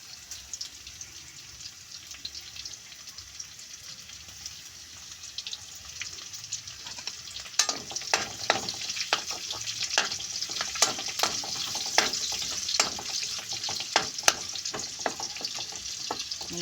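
Chopped garlic hits hot oil in a pan after meat has been cooking, starting as a quiet hiss that swells into a busier crackling sizzle with sharp spatters and pops.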